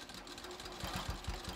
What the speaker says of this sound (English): I'm gonna stitch a little bit farther down